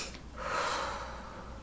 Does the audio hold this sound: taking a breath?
yes